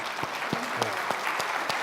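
A church congregation gives a short burst of applause for newly chosen pastoral candidates, scattered claps heard up close and lasting only a moment.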